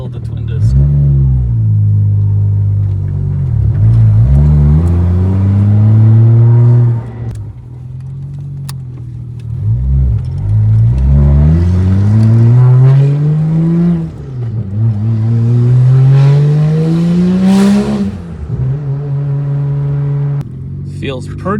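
A 1992 Toyota Mark II JZX90 with a twin-turbo 1JZGTE and twin-disc clutch pulls hard through several gears, its engine note rising in repeated sweeps with short breaks at each shift, loud and close from inside the car.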